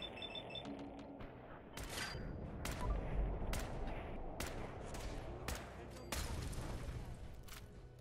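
Gunfire in the Fallout 4 video game: sharp shots crack out irregularly over a rumbling battle background, some in quick bursts and others spaced apart.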